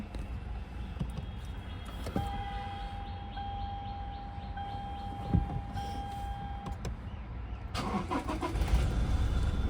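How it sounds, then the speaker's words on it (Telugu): A 2017 Toyota Fortuner 4x2 manual diesel is started. A steady idle-like rumble and a held chime tone come first, then the engine noise grows louder and fuller toward the end, close by with no talking. "స్టార్ట్ అయింది బండి"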